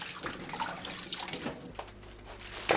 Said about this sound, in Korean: 배추가 다 절여지면 물에 헹굽니다